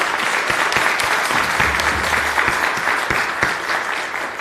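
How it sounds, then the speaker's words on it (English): An audience at a winter school band concert gives the young musicians a round of applause, dense steady clapping from many people with a few distinct sharper claps, continuous and fairly loud. "Let's give them another round of applause."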